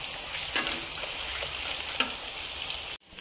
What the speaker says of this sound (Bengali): পেঁয়াজ ভাজা